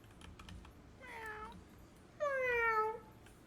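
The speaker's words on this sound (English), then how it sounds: "Are you the second fire cat?" A fire cat in a video game meows twice, a shorter call followed by a louder, longer one, close and clear over a quiet background hum.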